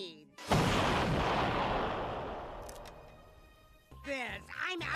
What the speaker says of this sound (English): That final explosion was Kettle's.